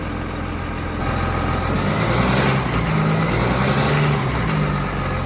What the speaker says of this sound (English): but it does sound a smooth engine